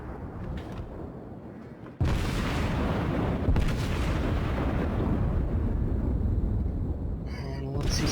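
Main guns of a New York tier 5 battleship in World of Warships fire with a sudden loud boom, followed by a long, heavy rumble of continued shelling and blasts, with a voice faintly underneath.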